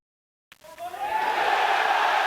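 A crowd at the Mosconi Cup pool match in the Tower Circus erupts into loud, sustained cheering and shouting after a sudden start from silence.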